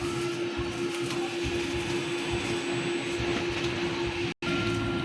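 A printer runs a head cleaning cycle, a steady mechanical whir and rattle with a constant tonal hum, continuous throughout apart from a momentary cutout near the end.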